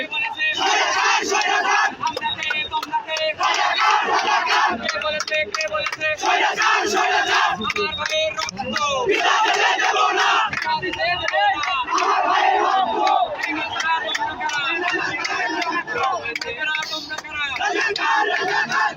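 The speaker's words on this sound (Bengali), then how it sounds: "এখানে শিক্ষার্থীরা স্লোগান দিচ্ছে" Students at a quota reform protest in Bogura chant slogans in unison, a dense, loud crowd roar with rhythmic shouted phrases rising and falling continuously, close by and steady throughout.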